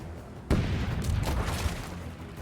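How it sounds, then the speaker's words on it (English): A pirate ship's cannon fires in Rogue Waters, a sudden loud boom followed by a rumbling, crackling tail of smaller blasts and debris that lasts about two seconds. "Cannon crew, give 'em a round"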